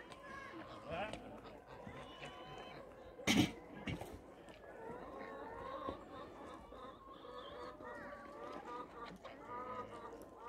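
Pasture-raised chickens cluck and murmur softly at feeding time on a small farm after rain, a busy flock chattering throughout, with a sudden loud flap or squawk near the start and a person speaking.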